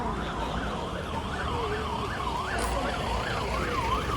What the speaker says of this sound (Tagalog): Bakit kaya may fire truck dito?